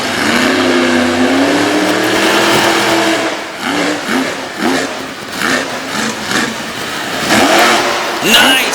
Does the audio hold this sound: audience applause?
no